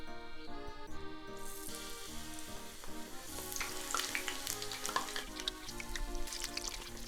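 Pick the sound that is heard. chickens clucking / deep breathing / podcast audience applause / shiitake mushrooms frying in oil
shiitake mushrooms frying in oil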